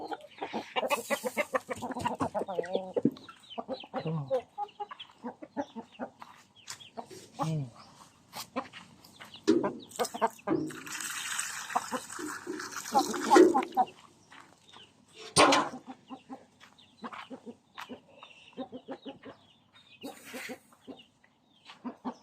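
Sai Koi chickens cluck on and off nearby while someone talks over them for most of the stretch, with busier bursts of farmyard noise in between.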